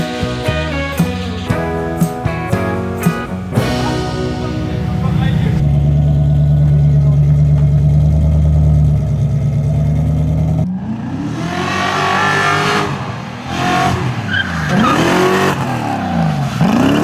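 A Toyota JZX100 Mark II engine cranks with a rhythmic starter whir, catches into a steady mid-pitched idle, then revs in rising and falling blips, loud and close, with voices talking over parts of it.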